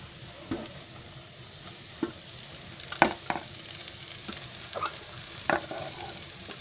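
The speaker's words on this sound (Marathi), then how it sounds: "आता मी त्याच्यामध्ये भाजी टाकते." Fenugreek leaves tossed into browned onions frying in a pan, a low steady sizzle broken by occasional spoon taps and scrapes, quiet and close with no talking.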